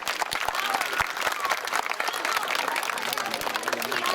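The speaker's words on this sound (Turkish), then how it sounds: "Ahmet Yıldırım'a güçlü bir alkış istiyorum." An audience applauds at a children's tournament trophy ceremony in Denizli, with dense, steady clapping from a crowd nearby, a few sharper individual claps and some voices mixed in.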